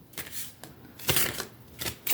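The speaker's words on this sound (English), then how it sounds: "Second shuffle." Several quick bursts of telepathy oracle cards being shuffled up close, crisp riffling flutters separated by brief pauses.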